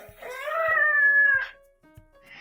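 A house cat gives one long, drawn-out meow with a rising and falling talking quality, close and loud, followed by a brief pause and the start of a second short call.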